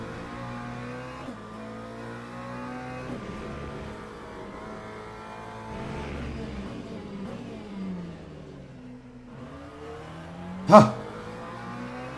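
Hypercars on the Portimao track in the racing game Le Mans Ultimate roar past one after another, engine pitches rising and falling with shifts, followed by a sharp brief clack near the end.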